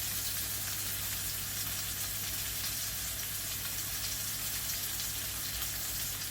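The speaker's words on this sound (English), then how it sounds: "So you can hear sizzling away." Rib of beef sizzling in lard in a hot pan, a steady dense frying crackle that runs unbroken and fairly loud throughout, with no voices over it.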